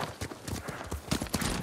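Horses' hooves clip-clop in quick, uneven beats as a small group rides off in the video game Ghost of Tsushima, fairly close and fairly quiet, with no talk over them.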